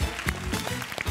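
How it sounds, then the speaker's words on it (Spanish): A studio audience claps through a Spanish-language TV talk show segment about a love story, a short, steady burst of applause with no break. "¡Aplauso para mis amigos Camila y Rommel!"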